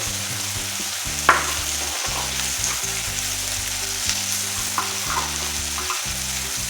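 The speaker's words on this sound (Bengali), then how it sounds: "দু মিনিট কষানো হয়ে গেছে। এবার দিয়ে দিচ্ছি কিছু গুঁড়ো মশলা, যেমন জিরে গুঁড়ো, ধনে গুঁড়ো, হলুদ গুঁড়ো" Chicken and pea ghugni with ground cumin, coriander and turmeric sizzles in a pan as it is sautéed, a steady close frying hiss broken by the scrape and clatter of stirring.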